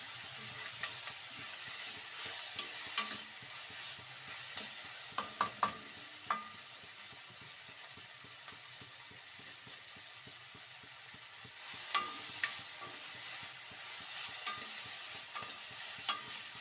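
Spice masala for horse gram curry sizzling and crackling as it roasts in a hot kadai while a utensil scrapes and stirs now and then, steady and close.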